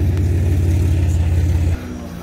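Single-turbo Nissan 370Z with a manual gearbox, E85 fuel and a little over 500 wheel horsepower, idling with a deep, steady close-up rumble that suddenly drops to a quieter idle near the end.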